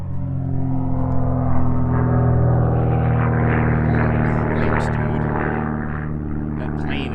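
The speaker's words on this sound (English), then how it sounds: "that plane is literally like 50 feet off the ground" A low-flying propeller airplane drones loudly overhead, a steady, rich engine hum with strong tonal layers that holds for several seconds and tapers slightly, with a person talking over it.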